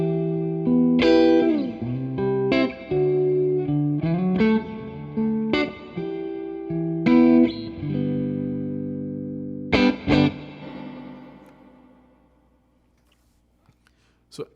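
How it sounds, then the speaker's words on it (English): An electric guitar plays a few chords and notes through a TC Electronic Hall of Fame 2 reverb pedal, each strum followed by a long, lush reverb tail that fades slowly into near silence. "I played deliberately to kind of really accentuate the sound of the reverb"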